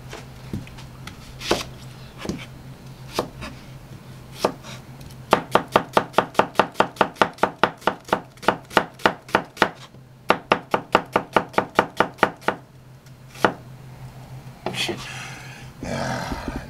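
A knife chops braised pig's trotters on a board in a Korean kitchen, sharp rapid strikes in a fast even run, with scattered single chops before and after. It is loud and close, with someone talking between the cuts.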